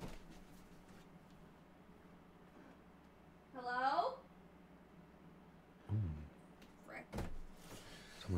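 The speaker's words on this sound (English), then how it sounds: "I just heard someone come in through my front door" A front door in the Roblox Bloxburg game opens with a brief swooping creak mid-clip, followed by a couple of soft thuds and clicks against a quiet background.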